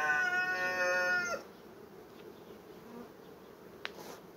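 Honey bees around an opened beehive give a brief harmonic buzz with a steady pitch, then it drops away into quiet room tone with a single faint click.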